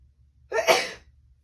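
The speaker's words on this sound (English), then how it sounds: "Oh no, I'm gonna sneeze." A single short sneeze, close and sudden, about half a second long in otherwise near-silence.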